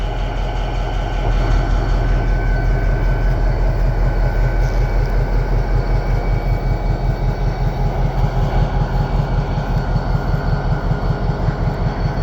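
A CSX GP40-2 diesel locomotive idles at Lee Hall near a restored Chessie System caboose, giving a steady, loud, close low rumble with an even pulsing beat throughout.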